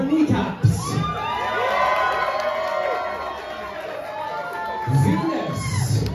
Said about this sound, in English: An audience, cheer for them as they make their way back to the stage.